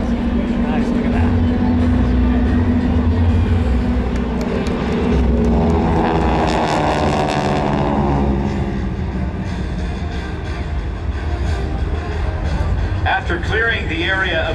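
GEICO Skytypers propeller aircraft fly over in diamond formation at an air show, a sustained loud engine drone that swells and shifts in pitch as the planes pass, with a voice talking over it.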